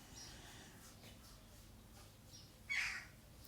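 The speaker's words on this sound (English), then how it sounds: "Apologies if you can hear the birds in the background" A crow caws once, fairly loud, over a quiet background with faint distant bird calls at feeding time.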